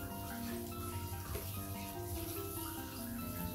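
Rainwater poured over an orchid plant (Phaius tankervilleae) while cleaning it, a steady close splashing and trickling that runs without a break, with no talk over it.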